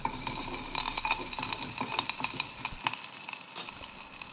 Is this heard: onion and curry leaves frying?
yes